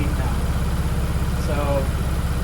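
Porsche Cayenne engine held at around 3,000 rpm while warming up, a loud steady droning hum with a rapid low pulse; a person speaks briefly over it.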